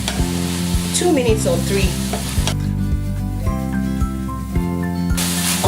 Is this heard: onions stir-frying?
yes